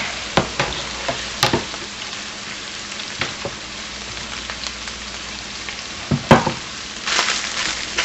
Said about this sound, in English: I'm going to add my half head of cabbage right on in there